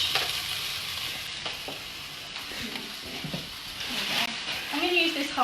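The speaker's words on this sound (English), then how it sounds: "I'm going to add in the spinach." Fresh spinach from a 300 gram bag hits a hot pan of browned chicken for spinach pesto pasta, sizzling and frying steadily while being stirred, with occasional clatter of utensils throughout.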